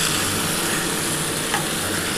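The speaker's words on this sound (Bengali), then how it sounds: "আমার মশলাটা কষানো হচ্ছে।" Spice paste for a thin mutton and potato curry fries and is stirred in a kadai, a close, dense sizzle with soft scraping through the brief moment and no voices.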